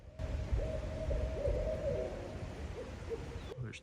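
A barred owl hoots in a rhythmic run of calls, somewhat distant, over a low outdoor hum.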